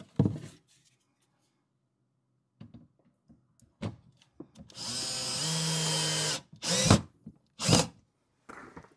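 A power drill drives a screw into a VEVOR rattan TV stand with a loud, sustained whine of about a second and a half, surrounded by shorter drill bursts, knocks and handling clatter close by.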